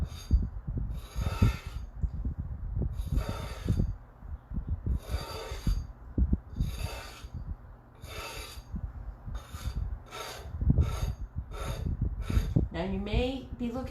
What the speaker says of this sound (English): So I'm going to scrape